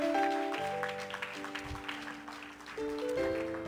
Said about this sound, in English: Let's give the Lord a hand clap one more time.